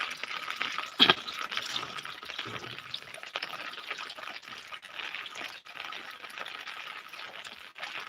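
Rain falling in a village in Latur district, a soft, steady wash of drops and dripping water at moderate distance, with one louder close splash or knock near the start and no voices.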